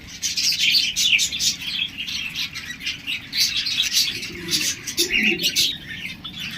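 A pair of zebra finches at a bird market chirp in quick, bright bursts throughout, with steady tweeting and a busy, close aviary background.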